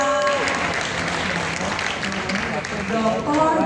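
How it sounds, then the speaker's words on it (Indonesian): An audience at a health event in Jakarta applauds Dr. Tirta, a full, continuous burst of clapping with a host's voice talking over it. "Tepuk tangan Dr. Tirta."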